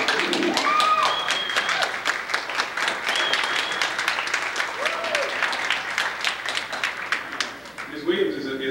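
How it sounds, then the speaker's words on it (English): An audience at a Pan-African celebration applauds warmly for a retiring staff member, dense clapping filling the room steadily from start to finish, with a few voices and cheers rising within it. "So we got to give her an applause."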